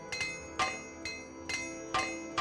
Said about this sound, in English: Okay, just keep spamming the hammer then.